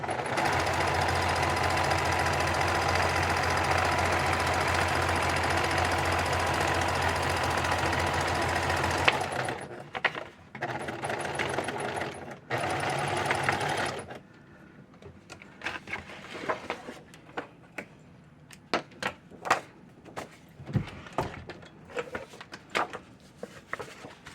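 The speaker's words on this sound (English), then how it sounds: "I'm going to go ahead and use a zigzag stitch, and I'm going to just stitch down the edge of that" A sewing machine runs a zigzag stitch along a fabric edge for a composition book cover, a loud steady mechanical hum for about nine seconds, then short bursts and quieter handling clicks.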